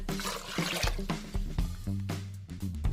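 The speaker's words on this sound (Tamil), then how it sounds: "இந்த வெந்நியை தான் நான் இதுல ஊத்துறேன்." Hot water poured into a pot of mutton soup, a steady gurgling splash with bubbling and sloshing that runs throughout at close range.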